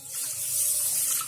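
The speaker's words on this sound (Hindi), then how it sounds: "1 कप पानी डाल देंगे।" A cup of water is poured into a pot of sugar set on a gas stove while making apple murabba, a brief steady splashing rush with no voices.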